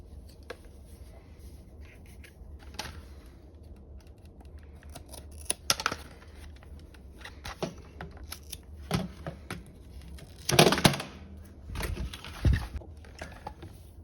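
Scissors snip hair and fuzz tangled around the brush bar of a Dyson Micro 1.5kg vacuum, giving sparse, crisp close-up cuts and clicks over a low hum, with a denser cluster of snips near the end.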